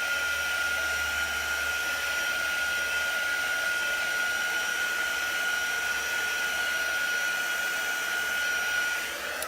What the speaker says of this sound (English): I'm just going to go ahead and heat it to just go ahead and get that nice and dry.